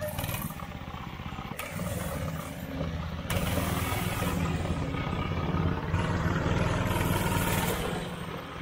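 A go kart driven around a backyard track gives a continuous small-engine drone with slight rises and dips in pitch, steady and fairly close throughout, no talking.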